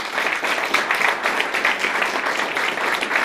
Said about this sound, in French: on lui fait une bonne main d'applaudissements pour Joanne